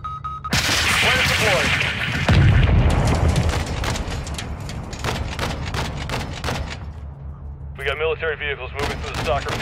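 Rapid gunfire rings out during a Call of Duty mission on PS5, with repeated sharp shots and heavy booms in irregular bursts, loud and near, while voices talk over the combat.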